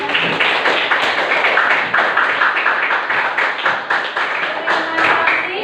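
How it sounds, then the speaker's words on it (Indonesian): Eighth-grade students at a junior high school clap together in a classroom, a loud, dense, sustained round of applause with crisp individual hand claps that continue steadily to the end. "terima kasih tepuk tangan semuanya"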